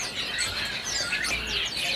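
A male cucak bird in a bird shop kiosk gives high, warbling chirps and calls over a steady background hum, fairly close, with no talking.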